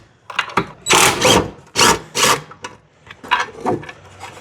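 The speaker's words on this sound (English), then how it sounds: "We're just gonna take these bolts out of the spare tire carrier." Ratcheting socket wrench turning out bolts on the spare tire carrier of a Jeep JK, a series of close, raspy clicking bursts in uneven runs with brief pauses between pulls.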